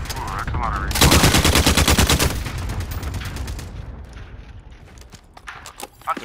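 Rapid automatic gunfire with heavy recoil in a multiplayer shooter video game, a dense burst of loud shots lasting over a second, followed by quieter scattered game sounds and a faint voice.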